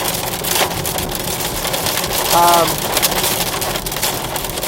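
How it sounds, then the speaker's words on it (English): Heavy rain drumming hard and steadily on a car while driving, a dense constant patter with a brief faint whine rising midway. "I don't even know if you can hear me over this rain."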